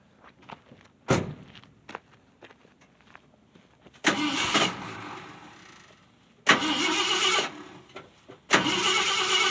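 A 1976 Ford F150 truck with no brakes, backing off a tow dolly, gives quiet clicks and shuffling before several loud bursts of engine revving, each lasting a second or two, with lulls between.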